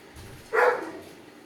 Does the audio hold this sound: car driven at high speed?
no